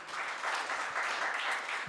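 Steady audience applause at a Hindi political speech, a dense, even wash of clapping throughout with no voices over it.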